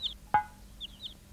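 Sparrow chirps in a television advert: a few short, bright tweets spaced irregularly, clear over a quiet background, with no talking.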